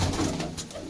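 A pigeon coos in a short, low, throaty burst, close and fairly loud, with no voices over it. The bird belongs to a keeper's flock of quality racing pigeons.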